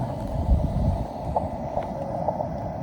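Wind buffets a microphone on a mountain summit during a portable amateur radio activation, making a steady low rumble with faint radio tones just audible beneath it.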